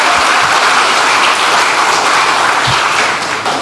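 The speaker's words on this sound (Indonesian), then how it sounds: "Tepuk tangan lagi." A crowd at Megawati Sukarnoputri's political speech applauds loudly and continuously in a dense wash of clapping. It tapers only slightly near the end, with a few low thumps underneath.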